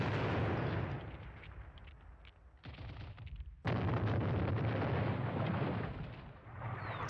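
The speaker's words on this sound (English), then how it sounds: "Wow, even more artillery coming in here." Artillery barrage from the video game Squad Battles, with dense rumbling explosions rolling continuously, a brief lull, then a sharp heavy blast that sets off sustained loud bombardment.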